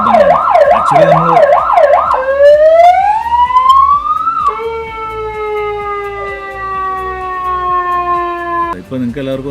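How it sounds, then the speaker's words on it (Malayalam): A police jeep siren sounds loud and close: a fast, repeated wailing warble, then a long rising sweep that settles into steady tones before cutting off near the end. "അങ്ങനെയുള്ള സൈറൻ ശബ്ദങ്ങളാണ്."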